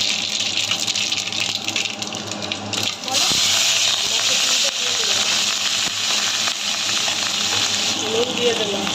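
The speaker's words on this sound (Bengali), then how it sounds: "তেল দিয়ে দেবো, সর্ষে আর পাঁচফোড়ন দিয়ে দেবো" Mustard seeds and panch phoron sizzle and crackle steadily in hot oil, a close, continuous frying hiss with a brief louder flare partway through, with no voices.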